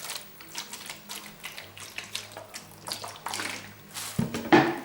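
Water poured and splashed onto wet, soapy wool felt in a bowl, a soft trickling and sloshing with light mechanical clicks, close and without speech.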